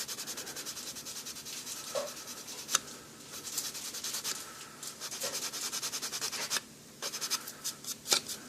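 Steady, rhythmic rasping of sandpaper rubbing across a car door, with repeated strokes and occasional sharper scrapes.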